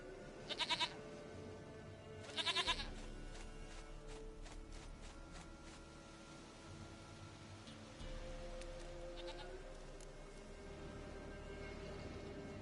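Two short goat bleats ring out early in The Witcher 3, close and clear, over a steady backdrop of rain-like ambient hiss and soft game music, with no one speaking.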